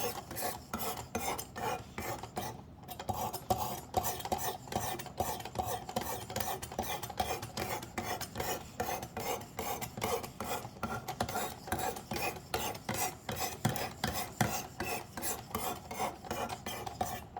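A knife is drawn repeatedly across a 320 grit stone on a Work Sharp Precision Adjust sharpener, giving a steady rhythm of close, raspy strokes with barely a pause.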